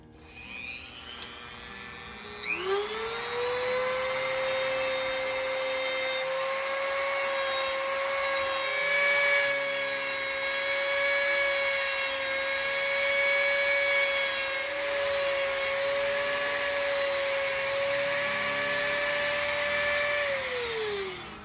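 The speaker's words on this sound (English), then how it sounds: "I will get the Dremel so that I can deburr it, because it does have a rigid edge on it" A Dremel rotary tool grinds and deburrs the rigid edge of a fiberglass Hemi SS hood scoop for a 1965 Dodge Dart, spinning up to a steady, loud high-pitched whine that holds for about twenty seconds before winding down.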